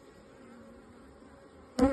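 Bees buzz around an open beehive during an inspection, a low, steady, faint drone throughout, ending with a short louder clatter of hive equipment.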